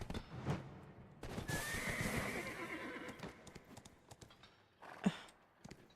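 A horse in the video game Black Desert whinnies loudly in a long neigh, with clip-clopping hooves before and after and a brief sharp knock near the end.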